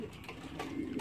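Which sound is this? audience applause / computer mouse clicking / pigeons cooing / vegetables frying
pigeons cooing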